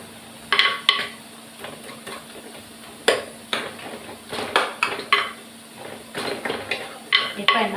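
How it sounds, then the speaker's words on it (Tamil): Tomatoes being sautéed in a pan while cooking manchatti chicken gravy bring repeated clinks and scrapes of a spoon against the pan, a quick, uneven rhythm of stirring over a soft background hum. "தக்காளி அதையும் போட்டு வதக்கிடலாம்."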